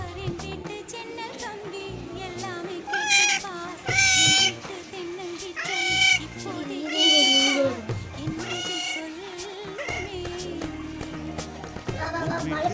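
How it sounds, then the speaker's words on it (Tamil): A hungry, injured cat meows repeatedly for milk, loud and close, with several drawn-out plaintive cries, while someone talks over and between them. "பூனை வந்து பசிக்குதான், பால் கேட்குது பாருங்க."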